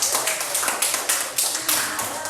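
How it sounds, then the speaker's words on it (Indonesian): Students clapping together in a classroom, a brief run of rhythmic, fairly loud claps in quick even bursts, close by with no talk. "tepuk tangan dulu."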